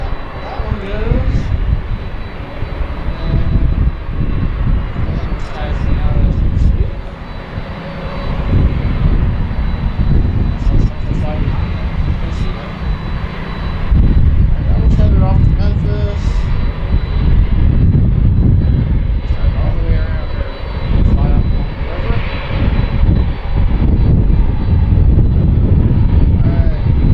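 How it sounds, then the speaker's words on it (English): Boeing 767 cargo jet taxiing out toward the runway at Harrisburg airport at night, a steady loud engine roar that swells and holds throughout, with faint voices talking now and then. "Going out to the runway. So 767 heading to Louisville."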